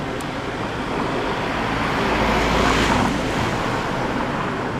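A car coming up from behind and passing on a roadway, its broadband tire and engine rush swelling to a peak and then fading away, with no talking.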